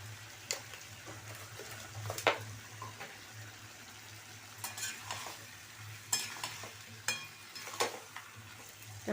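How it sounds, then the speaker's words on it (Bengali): Spice paste sautéing in a pan, a soft low sizzle broken by sharp scraping and stirring clinks at irregular intervals, fairly quiet and close. "তো ভালো করে একটু কষাতে হবে মশলাটা।"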